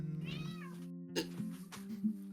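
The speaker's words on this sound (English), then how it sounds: "Baby kitty protests." A young kitten gives a short run of protesting meows, high-pitched and wavering, rising and falling near the microphone over a steady low hum.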